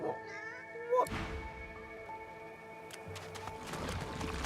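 A cat in the video game Divinity: Original Sin 2 gives a short, close meow over quiet in-game ambience, followed by a brief hooflike clatter.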